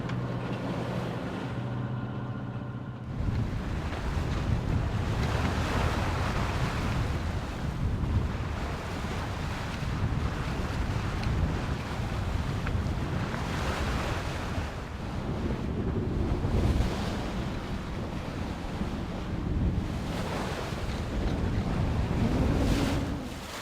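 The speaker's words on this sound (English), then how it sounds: "It takes a little while to get used to rough sea, but someone is liking the waves." Rough open-sea waves surge and crash around a sailboat running under a reefed genoa at nearly seven knots, while strong wind buffets the microphone in a continuous, loud roar with no voices.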